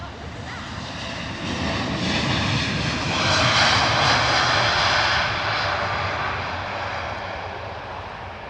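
A Boeing 787 Dreamliner departs London Heathrow bound for Riyadh, its jet engines roaring as a broad, rising and fading rush at moderate distance, with voices speaking faintly at times.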